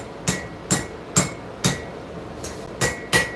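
Hand forging hammer striking hot metal on an anvil, a used farrier's anvil, with the workpiece heel hanging off the anvil edge: seven sharp, ringing blows in a steady rhythm, close and loud, with no voices.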